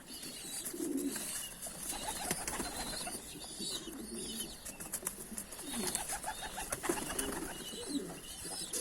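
Adana pigeons cooing softly and repeatedly in low, rounded calls, fairly faint under a constant noisy background.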